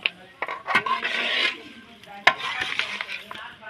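Country chicken pieces for biryani cooking in a pot, with close stirring scrapes and clinks of a utensil against the metal, a soft sizzle underneath and brief sharp knocks.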